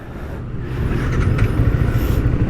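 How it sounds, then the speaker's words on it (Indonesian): A Yamaha YZF-R15 V3 motorcycle's SOHC engine idles and starts to rev, a steady low rumble that rises slightly in intensity, heard close with no speech. "jadi ini adalah ciri khas bunyi SOHC banget teman-teman ya, dari Yamaha"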